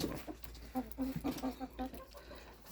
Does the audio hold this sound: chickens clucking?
yes